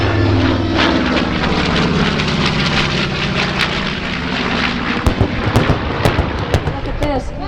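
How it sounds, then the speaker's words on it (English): B-25 Mitchell bomber from the Military Aviation Museum, Virginia Beach, Virginia, passing at a warbirds air show, its piston engines a loud, dense, roaring drone that turns rougher with crackling pops toward the end. "The B-25 from the left from the Military Aviation Museum in Virginia Beach"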